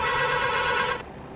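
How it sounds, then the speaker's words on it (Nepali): Steering-wheel horn of a vehicle in a Nepali traffic mod for a driving video game, a loud, steady electronic tone held for about a second before cutting off abruptly. "अनि स्टियरिङको हर्न चाहिँ यस्तो रहेको छ"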